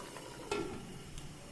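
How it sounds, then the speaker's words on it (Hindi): Water comes to a boil in a covered pot of potato and green peas curry, giving a faint, steady bubbling hiss with a couple of soft clicks. "ये पानी बॉयल होना शुरू हो गया"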